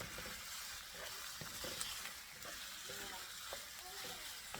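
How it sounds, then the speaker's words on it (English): Small pork steak pieces fry in a pan as they are turned, a low steady sizzle broken by soft scraping and clinking of the utensil, fairly quiet and close. "So I'm gonna keep turning this one for maybe like a couple minutes, guys, just to release some of the juice in there, and then kind of like fry it as well."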